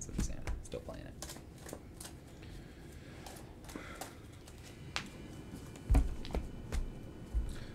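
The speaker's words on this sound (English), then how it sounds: "I'm just gonna shuffle all down." A deck of Magic cards is shuffled up close in repeated rustling, flicking bursts, with a heavier clack of cards near the end and some voice underneath.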